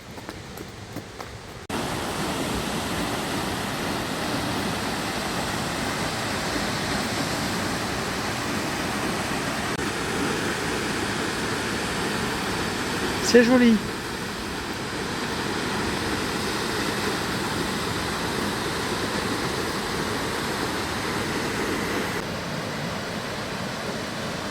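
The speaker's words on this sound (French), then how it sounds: "je t'emmène à la cascade de la Biaude" Steady broadband rush of the Cascade de la Biaude waterfall in the Jura, continuous and moderately loud throughout, with a brief voice heard once over the water.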